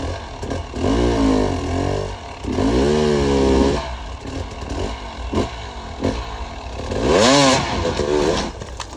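A hard enduro dirt bike engine revs in surges in loose, crumbly dirt, its pitch sweeping up and down through several loud bursts that may include the rear tire spinning; no one talks.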